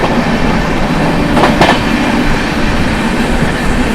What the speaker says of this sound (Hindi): फ्लैट 130 की स्पीड में ताबड़तोड़ ओवरटेक कर रहे हैं हम लोग मालवा सुपरफास्ट को